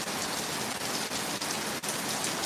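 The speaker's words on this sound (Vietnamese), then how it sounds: "Lượng mưa tuy rằng nó hơi nhỏ, nhưng mà đủ để cho ướt cây cà phê, mát cho cây cối rồi." Light rain, the first of 2023, falls on coffee plants outdoors as a steady, dense patter of drops close by, with no voices over it.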